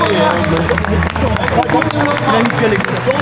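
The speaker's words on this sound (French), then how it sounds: "On va l'applaudir. Très fort." Audience at a national Salers livestock show applauding a group of cows, a short stretch of clapping blended with crowd murmur and nearby speech.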